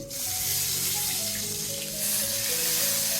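Panch phoron spice seeds crackle and sizzle in hot mustard oil, a close, steady hiss with a faint tonal hum underneath.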